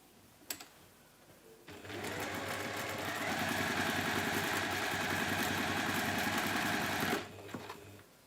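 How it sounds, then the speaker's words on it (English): Sewing machine chain piecing quilt fabric pieces for a walled garden quilt, one long, steady, close motor run of about five seconds with rapid needle chatter, starting and stopping abruptly. "we're going to sew that onto that long side of those two pieces to recreate the square"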